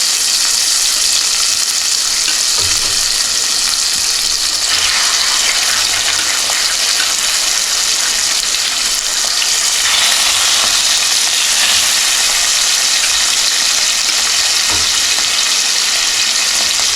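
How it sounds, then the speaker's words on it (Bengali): Fish pieces frying in hot olive oil in a kadai, a loud, dense, continuous sizzling hiss that holds steady throughout, close up and without voices. "তেল হয়ে গেছে গরম, দিয়ে দিচ্ছি মাছের পিসগুলি।"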